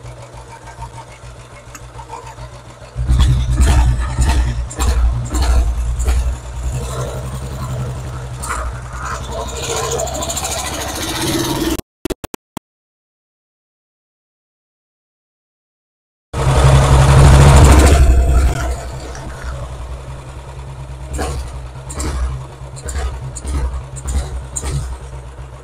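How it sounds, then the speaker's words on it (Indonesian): A handmade diesel engine in a BSA M20 replica motorcycle idles with a rapid, rough mechanical chug and knock, loud and close, briefly cut out midway before resuming. "itu suara dari khasnya diesel"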